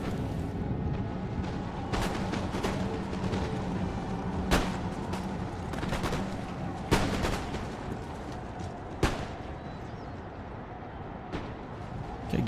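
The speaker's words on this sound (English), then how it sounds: "Get ready for these guns. There they go." Ship cannons fire in a broadside battle in the strategy game Empire: Total War. Several sharp, booming shots land a few seconds apart over a low rumbling background, with no talking.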